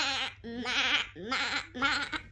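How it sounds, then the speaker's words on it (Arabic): A sheep bleats four times in quick succession, each call a wavering, nasal cry separated by short gaps, loud and close. "لا بجد انا سمعت صوت خروف"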